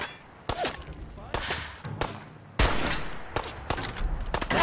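Gunfire in Fallout 4, a burst of sharp, loud shots fired a few at a time with short gaps between them, ending in a denser, sustained volley, with no voices over it.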